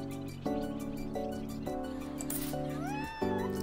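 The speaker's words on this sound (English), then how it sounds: "Oh, it's a white kitty." A white cat in the cozy video game Minami Lane gives a short rising meow near the end, over steady, gentle background music.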